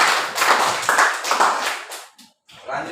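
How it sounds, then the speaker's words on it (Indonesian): A classroom of students claps hands together in a short, lively burst that dies away after about two seconds, followed by a brief pause and a few more claps. "Tepuk tangan."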